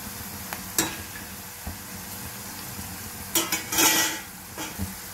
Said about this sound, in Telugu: చూడండి ఇలా వేయించుకున్నాము, ఇలా బ్రౌన్ కలర్లో వచ్చేదాకా వేయించుకున్నాము